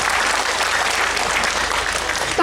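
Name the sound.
audience applause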